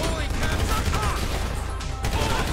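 Gunfire in Grand Theft Auto V, a dense, rapid stream of shots close by, with a brief break before the firing picks up again.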